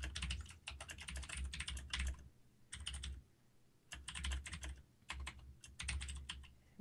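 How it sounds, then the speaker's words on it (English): Fingers type on a computer keyboard in quick clattering bursts of keystrokes separated by short pauses, close and faint, with no talking. "Because you can hear you typing"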